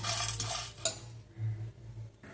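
Tea spices dry-roast in a hot pan, with close metallic scrapes and taps of a spoon stirring against the pan, one sharper clink, and quieter scraping afterwards; no voices.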